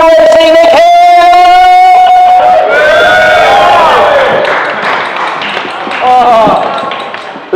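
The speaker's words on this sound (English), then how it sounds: "listen to that apathetic round of applause" Audience applause at a comedy show in a cavernous brewery hall, scattered clapping and a few cheers from a crowd that thins out after a few seconds, following a loud announcer's voice over the PA at the start.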